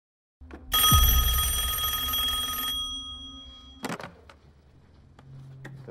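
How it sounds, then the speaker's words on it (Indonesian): A telephone in a shop rings with a loud, bright electric bell trill lasting about two seconds, followed by a sharp knock or door clatter and a quieter hum afterward. "Terdengar dering telepon dari toko itu."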